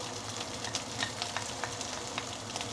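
Pickled vegetables hit hot vegetable oil with pork lard in a wok, giving a steady, soft sizzle with faint crackles and pops throughout, no talking over it.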